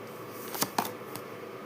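Tarot cards gathered up by hand in a short, quiet burst, with a few soft crisp card slaps and rustles close by.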